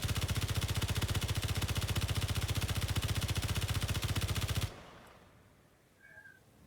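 Rapid automatic fire at a tower in the video game Space Engineers, a loud, perfectly even stream of shots at a fast rate for about four and a half seconds, then cutting off abruptly into near silence.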